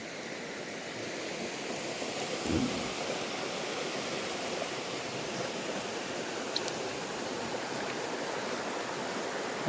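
Steady rain pours down in the Konkan countryside as a broad, even hiss that holds at the same level throughout, with a faint low thump near the start and no voices.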